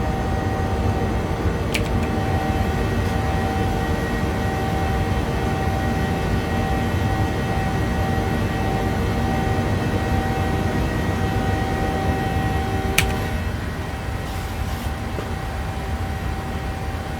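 A PMDG 737-800 jet in Microsoft Flight Simulator, Jet2 livery, accelerating after flap retraction in the climb out of Leeds: a steady, even engine roar and airflow drone holds throughout, with a couple of brief clicks.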